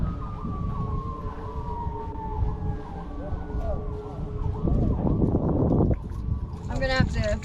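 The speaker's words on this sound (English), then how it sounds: "You hear them sirens?" A distant emergency-vehicle siren wails in a long, slowly falling tone, heard from inside a van at a campsite, with voices and rustling movement over it and a brief rise of clatter near the end.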